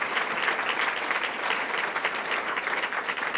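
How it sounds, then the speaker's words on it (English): An audience at the City Club breaks into steady, full applause, a dense wash of clapping filling the room without any talk. "Barbara Kelly, would just raise her hand, we want to give you a round of applause and a welcome to the City Club"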